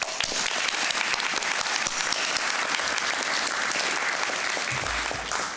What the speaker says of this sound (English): I think we should have a round of applause for our support team